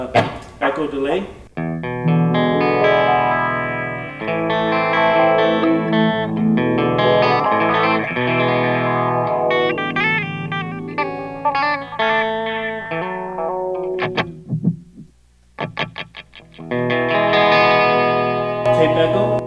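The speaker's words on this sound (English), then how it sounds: "Some sweep echo delay." Clean Schecter electric guitar through a Line 6 M13 sweep echo delay, chords and picked notes trailing into repeating echoes, close and steady, with a brief pause of sparse plucks near the end.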